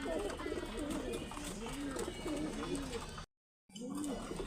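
Pigeons coo steadily in a repeating, rounded rhythm, close by, with a continuous hiss of background noise and a brief dropout near the end.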